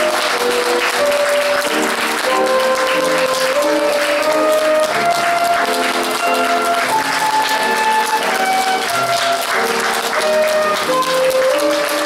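Wedding guests at a ceremony clap steadily and loudly for the whole stretch, blended with a melodic music accompaniment that keeps playing throughout.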